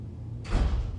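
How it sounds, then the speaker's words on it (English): A door swinging open indoors in a home, heard as one soft thud and a brief rush of noise that fades within a second, over quiet room hum. "I heard my door open"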